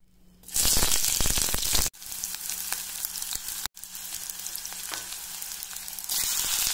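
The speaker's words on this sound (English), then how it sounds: "Then we are going to put sliced onions." Sliced onions drop into hot mustard oil and burst into loud, crackling sizzle that continues steadily, with two brief cuts where the sound abruptly stops before the frying resumes.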